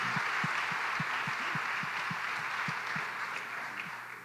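Audience at a community panel event applauds, a steady, moderately loud patter of many hands with a few rhythmic claps standing out and slowly fading near the end.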